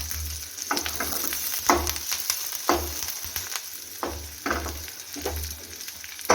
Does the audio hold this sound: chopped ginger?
yes